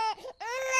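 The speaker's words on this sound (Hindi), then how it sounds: "बच्चे की पहली रोने की आवाज गूंजी।" A newborn baby's first cry as a horror-story sound effect: a short, clear, high-pitched wail broken by a brief catch, then rising again, loud and close.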